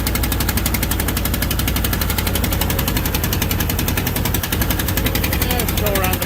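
A loud running engine on an old Galion 503 road grader, a dense, rapid mechanical knocking and chugging that stays constant throughout, close up and heavy, with a voice faintly underneath.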